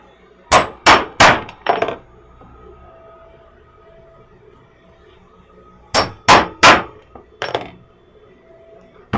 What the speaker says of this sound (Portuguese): Agora a gente vai furar a alça.